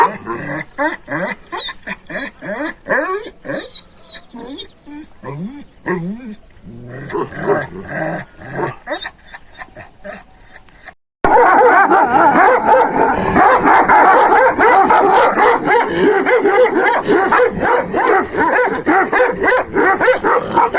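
Several dogs bark repeatedly at cattle passing by outdoors, a steady run of barks and yips that grows much louder and denser halfway through, with people talking in the background.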